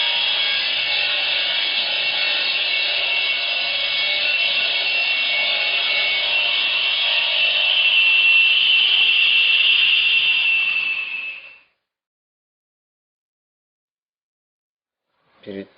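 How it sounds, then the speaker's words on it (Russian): Brick being cut on a saw machine while a two-sided fireplace is built, a steady loud grinding whine running about eleven seconds and then stopping abruptly, followed by silence and a brief knock near the end. "Вот как раз режем кирпич на станке."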